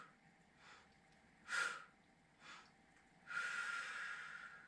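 A person inhaling and exhaling during a Pilates exercise, with soft nasal breaths and short sniffs at intervals followed by one longer, louder exhale, close and quiet in an otherwise silent room.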